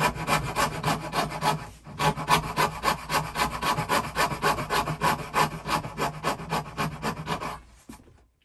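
Hand saw cutting a dovetail joint in wood for a box, a steady fast rhythm of close back-and-forth rasping strokes, with a brief pause before the sawing resumes.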